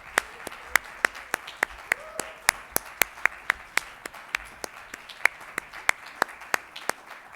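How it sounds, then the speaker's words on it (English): Sparse, slow clapping rings out as twelve finalists return to the stage at a bilingual competition, a handful of sharp, evenly spaced claps repeating steadily rather than a full crowd roar. "So let's give them a big round of applause."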